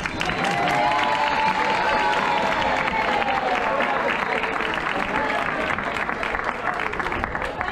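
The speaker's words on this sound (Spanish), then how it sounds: "También quiero dar un aplauso" A crowd at the awards ceremony of the 2023 Subida a la Plata gives dense, sustained applause. The clapping stays loud and steady for the full length, with some cheering and voices mixed in.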